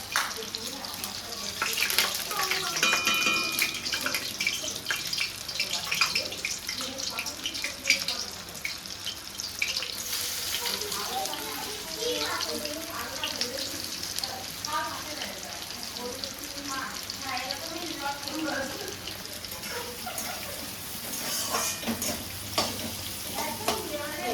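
Onion frying in hot oil in a home kitchen, cooking for a shredded Bombay duck fish dish, with a steady close sizzle, occasional stirring scrapes and running water throughout.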